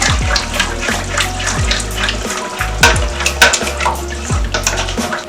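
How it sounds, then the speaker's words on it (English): Cake batter for a steamed cake is whisked briskly in a bowl. Close, rhythmic strokes give a sloshing, clattering wet sound at a steady pace, with no voice. "Whisk it in."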